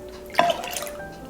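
A starter and water mixture is poured onto five cups of teff flour to make injera dough, a brief close splash and trickle of liquid over a quiet background.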